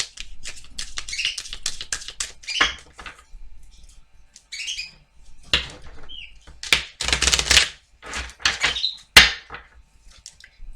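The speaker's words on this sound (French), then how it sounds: "je tape fort, ça fait du bruit" Tarot cards slapped hard onto a table during a reading, a series of sharp, loud taps and slaps in irregular bursts with shuffling rustles between them, close and dry.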